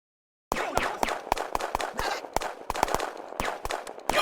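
A fire team lets loose bursts of rifle fire, a rapid run of sharp cracks in uneven clusters after a brief silence, loud and close.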